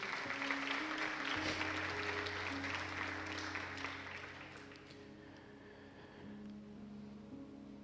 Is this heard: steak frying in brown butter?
no